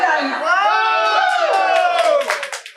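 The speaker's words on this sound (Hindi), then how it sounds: "कितने जोर से चिल्लाने से भी पूरी नस नाड़ियां खुल जाती है।" Crowd of people shouting loudly together at a community health and cultural gathering in Punjabi Bagh, a sustained strained group yell that rises and then breaks off into scattered claps and shouts.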